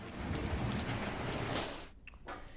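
Steady, dense rain pours down in Champawat district, Uttarakhand, during a pre-monsoon downpour. It forms a loud broadband hiss for most of the stretch, then eases near the end into a few scattered drips and splashes. No one speaks.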